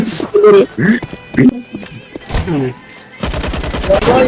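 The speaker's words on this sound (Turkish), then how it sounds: "Oğlum ben Uzi'yle nasıl sıkıyorum?" Uzi submachine gun bursts in Counter-Strike 2, a fast rattling stream of close shots, heard mostly near the end and in short bursts, while people talk and laugh over it.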